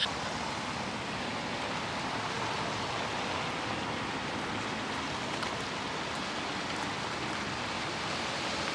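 Steady, even hiss of rain falling, a uniform wash of sound with no voices, constant in level throughout.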